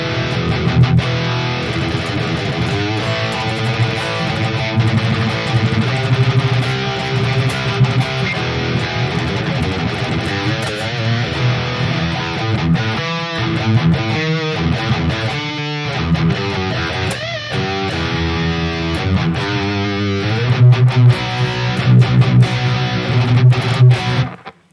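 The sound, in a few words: Jackson JS32 King V guitar, Harley Benton DNAfx Git JCM800 preset, reverb off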